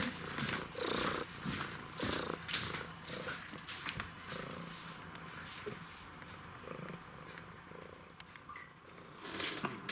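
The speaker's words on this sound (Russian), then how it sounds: "Сема, мурчать." A pet cat named Sema purrs on command indoors, a steady close rumbling purr with rhythmic breathing pulses that runs the whole time, with no talk over it.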